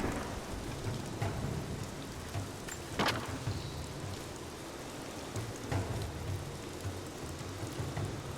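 Torrential rain falls in the Rise of the Tomb Raider video game, a steady dense hiss with distant thunder rumbling underneath.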